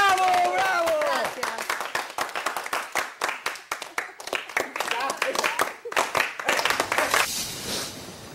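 Rhythmic hand clapping (palmas) keeps time for a dance number at a tribute gathering, sharp, fairly close claps in a steady pulse, with a singing voice at the start and people talking and cheering over them.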